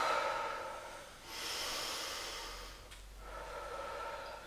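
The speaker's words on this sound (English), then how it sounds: "Keep breathing in through the nose. And out." Breathing exercise during a light lunge in a karate fitness session: audible nasal inhalations and exhalations, a long breath in, a pause, then another breath, close and fairly quiet with no talking.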